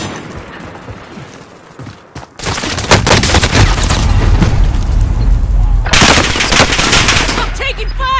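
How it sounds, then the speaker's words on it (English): Loud video game battle royale gunfire, bursts of rapid automatic fire that stop and restart, close and dense, with a brief lull near the start. "I'm taking fire!"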